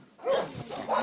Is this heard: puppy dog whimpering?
yes